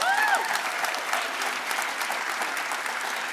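Steady audience applause fills a community kick-off event at a theatre, a dense wash of clapping from a large crowd that holds at an even level throughout, with a brief voice at the very start.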